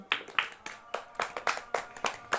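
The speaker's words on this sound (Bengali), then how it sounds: "জোরে হাততালি দাও" A small group of students in an offline drawing class claps together in a quick, uneven run of about nine sharp claps, close and fairly loud, with no talking over it.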